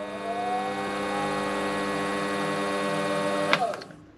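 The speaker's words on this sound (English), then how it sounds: "set the lathe to a really low figure, say 100, maybe 200 RPM, and just start it up without the tool anywhere near the cutting surface" A mini lathe is switched on at a low speed of about 100 to 200 RPM, with no tool touching the work. It gives a steady, loud motor whine with a tonal hum throughout, then a brief clunk as it winds down near the end.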